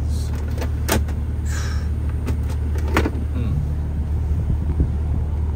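Electric windows on a 2004 Dodge Ram 2500 Cummins diesel pickup whir as they run, with door and cab sounds over the steady low rumble of the idling diesel.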